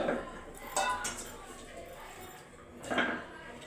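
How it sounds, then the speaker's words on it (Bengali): Stone grinding slab (shil) being washed in a kitchen, with a few scraping, knocking and splashing bursts at the start and near the end over a low background, while a voice talks. "এবার শিলটা ধুয়ে দিচ্ছি"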